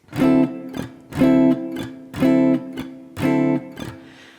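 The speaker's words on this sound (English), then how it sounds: "I strum upwards and I have muted dead notes" Close acoustic guitar in a steady rhythm, four ringing chord strums alternating with soft, percussive muted dead-note scratches.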